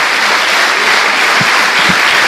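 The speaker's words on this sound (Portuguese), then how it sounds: "Dê uma salva de palmas a Jesus." A church congregation claps together in a dense, loud, continuous burst of applause, with no speech over it.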